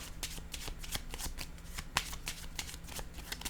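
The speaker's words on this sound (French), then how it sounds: "Je vais déposer une carte sur questionnement." Tarot cards riffled and shuffled in a steady flurry of crisp papery flicks, with a sharper card slap near the middle as one is laid down; no talking.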